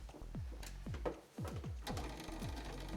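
A sewing machine runs short bursts of rapid stitching in one spot to make a lock stitch on a fabric checkbook cover, with brief pauses between the close mechanical runs.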